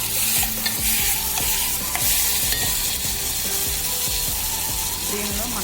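Boiled elephant foot yam stirred into frying onion and tomato: a continuous sizzle under rapid, rhythmic scraping of a spoon against the pan, close-up and loud.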